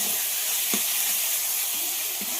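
Ginger-garlic masala fries in oil with salt and turmeric for a jackfruit curry, a steady, loud close sizzle and hiss with a few soft knocks of stirring.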